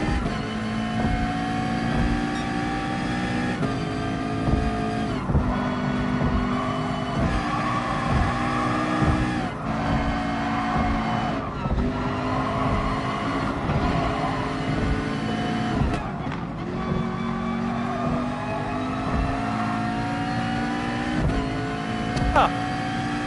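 Race car engines drone through a Gran Turismo Sport online race in Tokyo, a steady high-pitched whine rising and falling with repeated upshifts and braking, close and continuous beneath occasional commentary.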